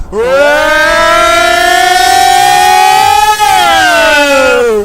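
A loud, wailing air raid siren rises in pitch, holds a long steady tone, then begins to fall, heard close and alone.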